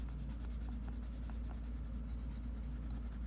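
Colored pencil burnishing on paper makes a faint, steady scratchy rubbing, with soft repeated strokes under a constant low background hum.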